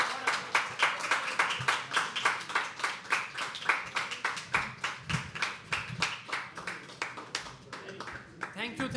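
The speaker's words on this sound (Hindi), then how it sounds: "फिर से एक बार तालियां फॉर छवि।" Audience applause at a live poetry open mic, a dense run of hand claps lasting the whole stretch at steady strength, with faint voices mixed in beneath.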